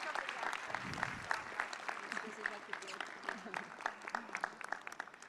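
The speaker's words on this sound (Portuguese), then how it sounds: "Uma salva de palmas para ela." Audience at a party ceremony for the PL Mulher leadership inauguration applauding, sustained clapping from a large room, with voices mixed in underneath.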